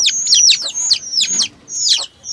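Desi chicken chicks chirp in quick, high, repeated bursts inside a new rooftop coop, the calls close and clear with short pauses between them.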